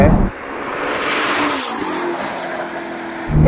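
Ferrari SF90 Spider hybrid with a Novitec exhaust accelerating hard, a loud, close, steady engine roar climbing in pitch for several seconds, with a voice speaking over it.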